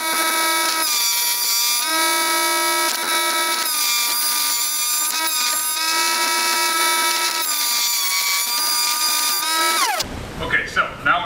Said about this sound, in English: I got a planer, I want to use it